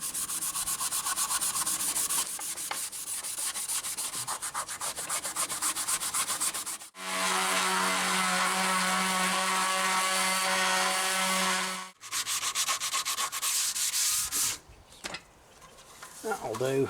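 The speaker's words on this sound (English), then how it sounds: "I'll give that a scrub off and then give it a sand down ready to paint." Sanding a rusted chain guard off a Triumph Bonneville T140 motorcycle, a close, loud rhythmic rasping rub in long strokes, broken by a steady mechanical whine and a few brief pauses.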